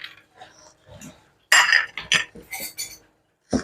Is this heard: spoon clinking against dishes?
yes